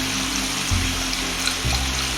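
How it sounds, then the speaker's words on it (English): Cold water pours and is whisked into brown gravy, a steady running, splashing wash with soft low sloshes as the whisk stirs, close and continuous with no talking. "I'm going to take 3 cups of cold water and slowly whisk it in"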